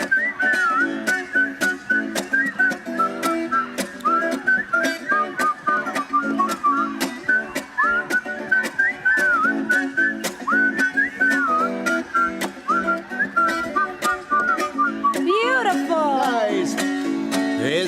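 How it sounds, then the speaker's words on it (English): Whistling along to a live song at a school Ozark folk music performance, a sustained, wavering melody carried over steady rhythmic accompaniment, with a brief sliding vocal flourish near the end. "But if you know how to whistle, whistle along."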